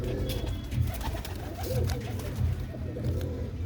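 Pigeons kept by a fancier coo softly and repeatedly in low murmurs, layered over a steady low hum of background noise with no voices.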